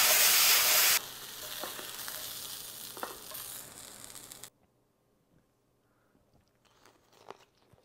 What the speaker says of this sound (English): Add the beef short ribs into the pan.